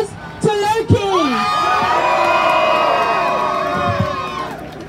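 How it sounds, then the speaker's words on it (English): A protest crowd outside the US Embassy in London cheers, whoops and yells loudly and continuously, a large mass of voices swelling and holding steady with some shouts standing out near the start. "Please welcome to the stage, please give a round of applause to Loki."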